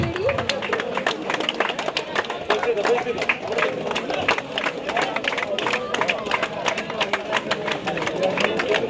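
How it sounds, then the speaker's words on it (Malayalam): A crowd at a swimming club event welcomes swimmers with steady, continuous clapping that runs throughout, mixed with chatter and a busy background. "നല്ലൊരു കയ്യടി."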